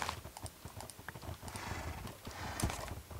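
A horse in the video game Minecraft makes quiet, irregular clip-clop hoof steps and gives a brief whinny, faint and nearby, with no talking.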